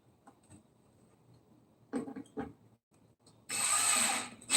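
Power drill driving Deckmate screws into a wooden coffin: a few faint handling knocks and short bursts, then a sustained loud whirring drive near the end.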